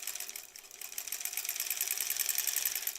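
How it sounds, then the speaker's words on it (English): A sewing machine stitches two quilt pieces together, a fast steady mechanical whir with rapid needle clatter, close up and uninterrupted for about three seconds with no talk. "we got to sew these two pieces together"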